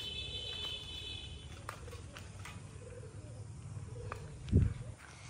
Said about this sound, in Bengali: এখানে কবুতরের খোপ, কবুতর আছে